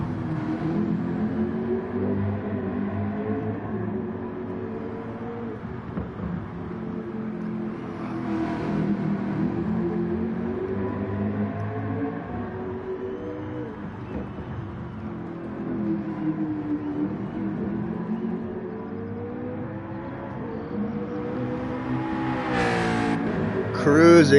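A McLaren race car in a racing video game cruises down the pit straight at Fuji Speedway, its engine humming and revving in a steady wavering drone throughout, under a commentator's voice, with a sharp rise at the very end.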